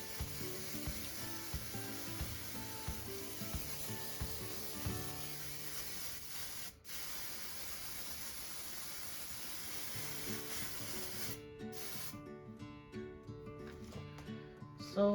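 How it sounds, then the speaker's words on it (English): A steady hiss of aerosol hairspray sprayed onto a wreath runs continuously for over ten seconds, close by, then cuts into short sputtering bursts near the end. "And now I'm gonna spray with a little bit of hairspray."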